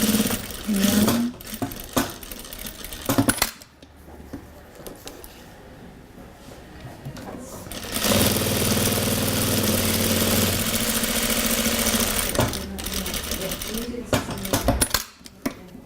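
An industrial sewing machine stitches double needle straps, whirring loudly in sustained runs broken by a quiet pause and a few clicks and clinks of handling between passes.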